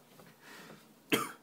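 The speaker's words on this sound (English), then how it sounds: "and then I ended up coughing" A single sharp cough bursts out near the end after a stretch of quiet breathy sounds, close and fairly soft overall.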